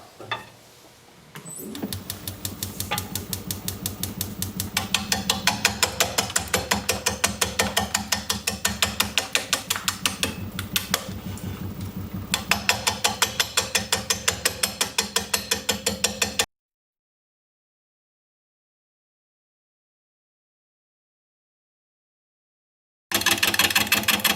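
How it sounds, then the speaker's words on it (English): A large wooden piece spins on a lathe while a swept-back bowl gouge cuts it, giving a steady, close, rattling scrape over a low rhythmic rumble. It stops abruptly into silence, then resumes. "I'm using a swept-back bowl gouge rather than the standard grind"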